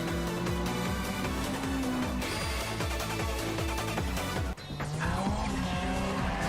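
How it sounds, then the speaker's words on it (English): Car oversteering with its back end sliding out, engine revving in repeated rising sweeps over loud, sustained tire squeal, with a brief dip before the squealing resumes. "The back end is sliding out of line. This is called oversteer."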